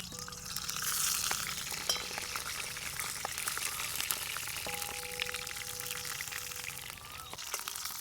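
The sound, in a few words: eggplant frying in oil in an iron kadhai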